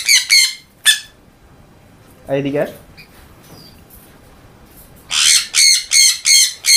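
A pet bird squawks in loud, harsh bursts, a few at the start, then a fast run of repeated squawks near the end, close to the microphone, while a person speaks briefly.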